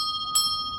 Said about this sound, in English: This just came in, the Centennial Bell.